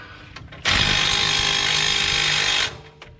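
A power drill whines at high speed for about two seconds while front brakes and rotors are changed on a box truck, starting and stopping abruptly, loud and close, with brief clicks around it.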